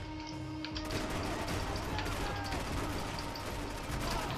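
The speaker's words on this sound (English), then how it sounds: "let's shoot this guy" Gunfire in the video game Max Payne 3, a burst of dense sharp shots and mechanical clatter after a brief lull, loud and sustained over game ambience, with faint speech mixed in.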